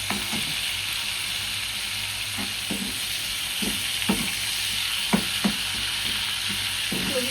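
Tomatoes fry in a pan for chowmein with a continuous close sizzle, punctuated by light scraping and stirring taps throughout.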